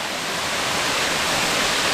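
Limestone waterfall at Cumaca in Trinidad, a steady, dense rush of falling water close by, loud and unbroken with no voices.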